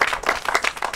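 Audience members, children among them, clap on a morning television show, a quick run of close, uneven hand claps with no talk over them.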